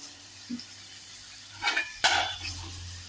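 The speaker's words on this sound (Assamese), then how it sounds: "এতিয়া এনেকৈ লৰাই মেলি আস্তেকৈ ঢাকি থ'ম" A spoon scrapes through mutton liver fry in a pan, then a metal lid clanks down to cover it, close up and brief, with soft clinks over a low background hum.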